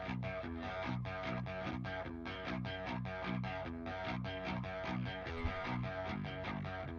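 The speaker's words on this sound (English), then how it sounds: "It's just some chorus on a little bit of distorted guitar." Lightly distorted electric guitar with a chorus effect plays fast, steady repeated chords in a busy rhythmic pattern, moderately loud, with no voices.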